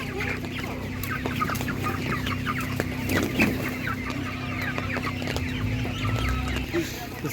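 Chickens and other poultry at an outdoor animal market clucking and cackling in scattered bursts over steady crowd murmur, with a few sharper calls standing out.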